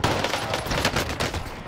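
MP40 submachine gun fire in Call of Duty Vanguard Warzone on Rebirth Island: a short, loud, dense stream of rapid automatic shots, close up and continuous for the whole moment.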